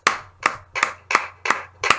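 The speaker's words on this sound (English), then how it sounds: "Give him a round of applause" A small group claps in about six sharp, evenly spaced bursts, loud and close, with no talking over them.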